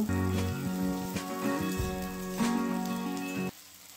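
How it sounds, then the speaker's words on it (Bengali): Chopped onions fry in hot oil for a fish chop recipe, giving a steady, soft sizzle under sustained background music that cuts off near the end. "তেলটা গরম হয়ে গেলে এখানে আমি কুচিয়ে রাখা পেঁয়াজ দিয়ে দেবো। পেঁয়াজটা একটু লাল করে ভেজে নেব।"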